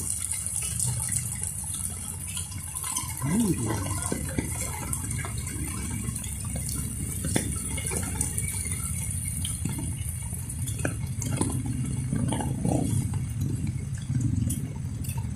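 A downpour of heavy rain gushing steadily nearby, a thick unbroken wash of falling and running water, with faint brief human sounds beneath it.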